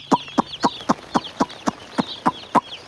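Farm chickens raised in a village poultry shed give about ten short, evenly spaced clucks, close and clear against a quiet background.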